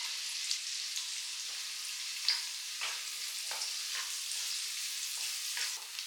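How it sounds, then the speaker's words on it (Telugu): Finely chopped carrots and beans fry in oil, making a soft, even sizzle with a few light scrapes of stirring, quiet and close, with no one talking. "ఇవి లైట్గా కొంచెం బ్రౌన్ కలర్ వచ్చేలాగా ఫ్రై చేసుకోవాలండి."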